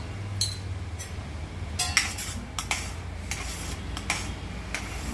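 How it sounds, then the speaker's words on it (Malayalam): A spoon clinks and scrapes against a metal pot as jaggery powder is stirred into simmering raw mango rasam, with light irregular taps over a low background hum. "1 ടീസ്പൂൺ ശർക്കരപ്പൊടി ചേർത്ത് ഇളക്കി കൊടുക്കാം."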